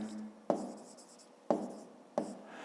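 A pen writes the answer to a fifth-grade math exercise on paper: three short, distinct scratchy strokes, each starting with a soft tap, close and quiet with no talk.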